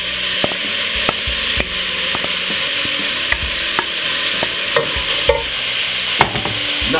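Chopped ingredients, later with king prawns, fry in a little oil in a medium-sized pan over medium heat, giving a steady bright sizzle with regular sharp clacks of stirring against the pan.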